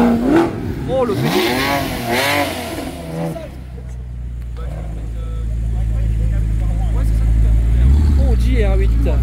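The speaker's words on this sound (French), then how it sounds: "une Audi R8 qui vient en plus" An Audi R8 sports car with a V8 engine approaches and passes, its engine noise building steadily from a low rumble to a loud, sustained roar near the end, with someone talking excitedly over the first part.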